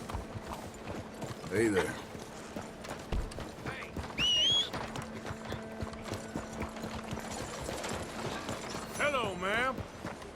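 Horse hooves clip-clop steadily in Red Dead Redemption 2, with occasional jingles and mechanical clicks around them, while people briefly exchange greetings nearby.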